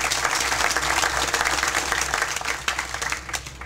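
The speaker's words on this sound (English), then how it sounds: "So let's give them a round of applause." Audience applause at a senior recreation center groundbreaking ceremony, steady dense clapping from a crowd that holds for several seconds and tapers slightly at the end, alone without talk.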